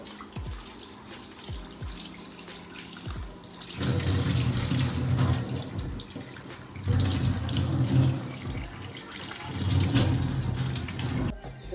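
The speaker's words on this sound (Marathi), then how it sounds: "ते आता साफ वगैरे करून घेऊया" A kitchen tap runs while fresh mackerel are rinsed for cleaning. Quiet splashes and drips come first, then the water gushes in strong close bursts, easing off briefly between them, with no talk heard.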